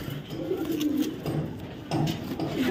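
Female racer pigeons coo in low, throaty, repeated phrases, several overlapping calls close by in a pigeon-sale setting.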